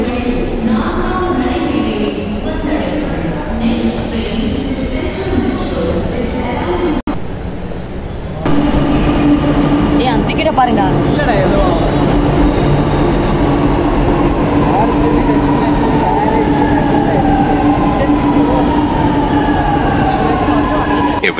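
A train rumbles loudly between Alandur and Nanganallur, with a sharp break and then a steady roar and rattling wheels; voices chatter over the noise early on.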